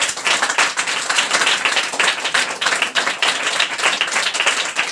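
A church congregation claps hands in praise, producing a loud, dense, continuous wash of many hands with a quick, steady rhythm and no break.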